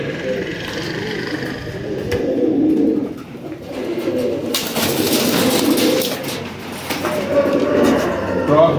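Rampuri pigeons coo in a loft, soft low rolling calls repeating close by, mixed with fluttering and rustling and someone talking over them.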